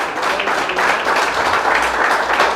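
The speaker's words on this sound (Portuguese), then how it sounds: "Pode aplaudir e glorificar." A church congregation claps together in a dense, steady burst of applause, loud and close for a couple of seconds with no pause.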